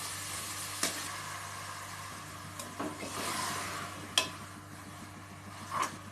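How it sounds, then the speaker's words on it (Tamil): Mutton intestines fry with onion and tomato in a pan, giving a steady close hiss and crackle, with occasional scraping knocks as the mixture is stirred. "நம்ம இப்போ குடலை போட்டுக்கலாம்."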